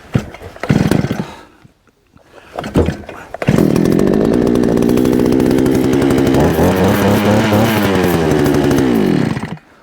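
A small gas auger engine sputters briefly, goes quiet, then starts on full choke and runs loud and steady with a rough buzzing drone, revving slightly before cutting off.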